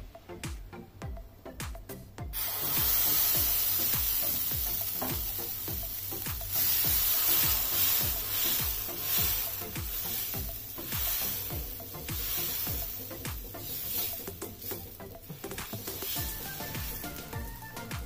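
Dosa batter sizzles loudly on a hot seasoned iron tawa, a steady close hiss with stirring and scraping ticks early on, continuing without talk.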